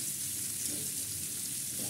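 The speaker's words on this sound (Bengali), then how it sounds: "এগুলো ভালো করে ভেজে নিই একদিকে।" Pieces of pointed gourd (potol) fry in oil in a pan, a steady, even sizzle with no breaks, close and moderately loud.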